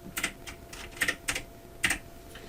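Keystrokes on a computer keyboard while writing in PowerPoint, a handful of crisp, irregular clicks close up against a quiet room.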